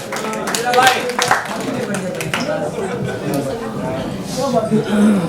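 Applause greets an award recipient at a Mumbai mushaira in a hall, uneven claps rising and falling beneath lively talk, chatter and a few chuckles.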